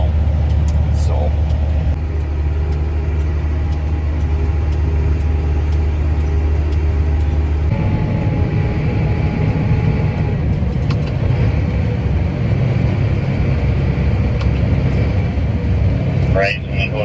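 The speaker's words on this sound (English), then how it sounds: "First wagon is leaving" A silage wagon pulls away from a Minnesota corn field during harvest, its engine a steady low rumble close by, with a shift in tone partway through and someone talking over it.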